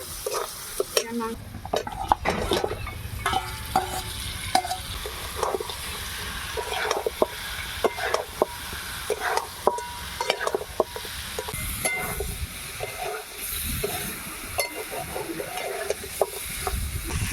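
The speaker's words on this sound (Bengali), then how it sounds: "পেঁয়াজ রসুন সমস্ত সব ভালো করে কষিয়ে নিয়েছি" Onion and garlic stir-fry in a pan for a country-chicken curry, with a continuous hissing sizzle broken by frequent spatula scrapes and knocks, close and fairly loud, with no talking.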